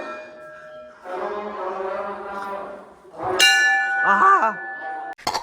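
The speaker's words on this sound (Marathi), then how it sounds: "ज्या हाताने लागला मित्र त्याच हाताने घंटी वाजवली मी जोरात." A temple bell is struck hard by hand at a Ganesh shrine in a temple on the way to Bhimashankar, ringing out loudly with bright sustained tones and a second metallic chime, after a stretch of crowd murmur.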